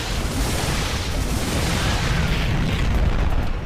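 A science facility blown apart in StarCraft II, a steady, loud rumbling explosion roar with dense low booms running continuously throughout.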